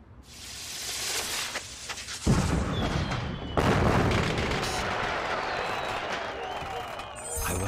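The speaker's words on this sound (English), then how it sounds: "¡Hey! ¡Fireworks!" Fireworks bursting in the Puss in Boots PS3 video game, a dense run of loud booms and crackling pops layered over game music and crowd-like noise, with a heavy blast partway through.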